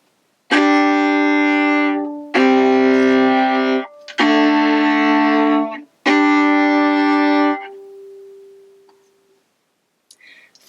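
Fiddle method chord exercise on an orchestra violin: four loud, sustained bowed chords played one after another with short breaks, the final chord trailing off into a faint lingering note, no voices.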